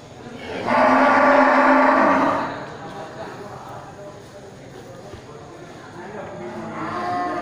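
A slaughter-ready cow lets out one long, loud moo close by, followed by quieter farmyard background and the start of another low call near the end.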